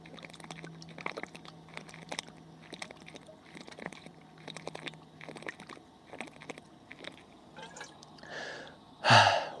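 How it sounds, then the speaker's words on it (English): A person drinks water outdoors in the heat of the Mojave Desert, with a steady run of soft gulps and swallows at close range, ending in a louder exhaled gasp. "Water drinking ASMR."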